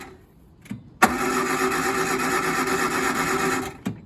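A 1950s-style Austin A35 small four-cylinder car engine cranks briefly and catches at once, then settles into a steady, even idle close by, with a short clunk and a drop in noise at the end.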